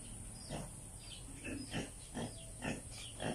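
Pigs grunt and oink in a newly built pigsty, with about six short snorting calls at a moderate distance over a steady background hum.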